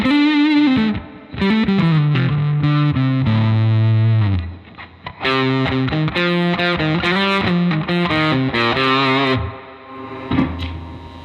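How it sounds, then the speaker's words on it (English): Fuzzy, heavily distorted electric guitar through a Big Sky Drive overdrive pedal plays a loud riff of bending notes and chugging chords, with brief pauses between phrases. "At one point, it almost starts to sound like a fuzz pedal,"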